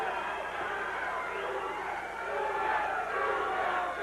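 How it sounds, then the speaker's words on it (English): A wrestling arena crowd cheers and roars steadily for a wrestler's entrance, a dense distant-sounding wash of applause and shouting with a commentator's voice faintly under it. "Can there be any doubt about that applause?"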